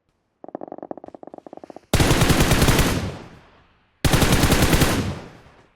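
Video game gunfire opens with a quick rattle of light automatic shots, followed by two loud, heavy blasts, each with a long, fading tail.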